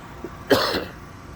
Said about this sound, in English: Sorry about the cough, still getting over the cold.